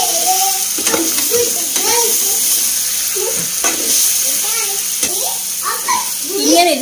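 Beef roast sizzles and frys in a pan while it is stirred, a loud, steady crackle with a person talking over it throughout.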